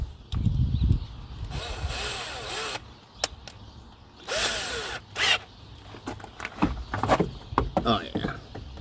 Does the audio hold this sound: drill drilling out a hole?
yes